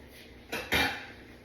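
A heavy-duty 3-quart pan is handled in a kitchen: two quick metallic clanks close together, the second louder and ringing briefly, against a quiet room.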